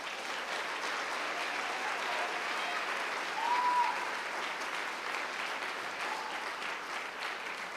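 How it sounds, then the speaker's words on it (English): Audience applause after a debate event, a steady wash of clapping heard from a distance at moderate level, continuing evenly throughout without voices. "let's just give everyone a round of applause"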